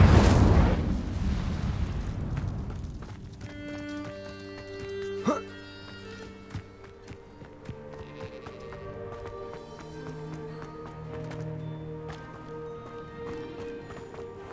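An Incendio fire spell is cast in Hogwarts Legacy, a loud fiery burst that fades within a second, followed by quieter tonal game sounds.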